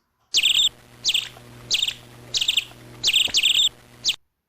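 Bright, high-pitched bird chirps repeat in short bursts about once a second, clear and close, with a faint low hum underneath.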